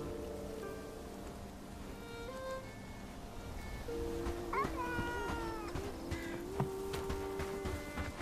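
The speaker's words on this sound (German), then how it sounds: "Einmal die Katze streicheln." A cat meows as it is petted in the winter setting of the video game Bellwright, several short rising and falling calls over a soft rain-like ambience, fairly faint, with no talk.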